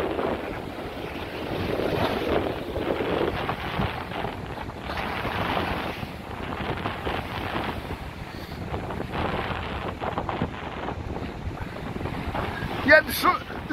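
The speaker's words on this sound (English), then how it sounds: "The wind will soon blow me dry." Strong wind gusting beside the sea at Blackpool, a steady roaring buffet across the microphone with waves faintly underneath, continuous throughout and no speech.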